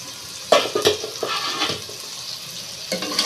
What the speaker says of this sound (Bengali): আমি এখন ঢাকনাটা খুলে আবার নেড়ে চেড়ে দেবো